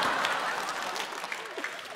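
A studio audience at a Korean comedy show claps in a thick, steady burst under a speaking voice.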